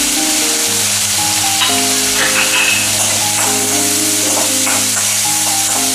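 Chopped onion and tomato sauté in a hot pan for a Kelagan fish curry, a steady close sizzle and hiss running throughout with faint stirring scrapes and a low background hum.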